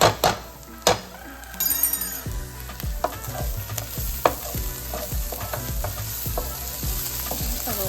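Potatoes and chorizo fry with a steady sizzle in a pan as cumin is stirred in. A utensil knocks and scrapes against the pan in repeated sharp clinks over the constant hiss.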